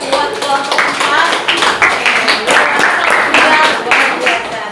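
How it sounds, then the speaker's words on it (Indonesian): A school class in a junior high classroom clapping for a student group, loud and close, with uneven bursts of hand claps from a small crowd and some voices mixed in. "kita kasih tepuk tangan buat kelompok 4."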